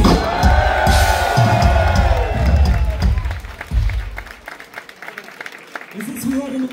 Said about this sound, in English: I want to give you a loud applause